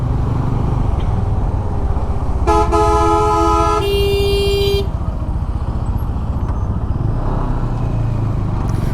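A second-hand GPX Demon motorcycle's horn blares in two bursts over a highway, one lasting over a second and a shorter one trailing off, above a constant loud engine and road rumble.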